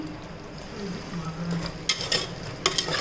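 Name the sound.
mutton frying in a pan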